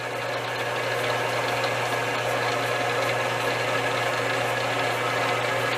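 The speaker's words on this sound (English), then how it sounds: "And there it's spinning. That's I believe it's a 1/3 horsepower motor." Homemade woodworking lathe powered by a salvaged 1/2 horsepower furnace fan motor, used for turning a newel post top cap. It spins with a steady, close, continuous whirring hum and a low mechanical drone at constant loudness throughout, with no talking.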